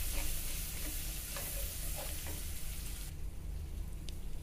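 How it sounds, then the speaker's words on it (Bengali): Chopped onions frying in oil in a pan, a dense continuous sizzle with a few light stirring clicks, close and fairly quiet, no one talking. "এখন দিয়ে দিচ্ছি পেঁয়াজ কুচি।"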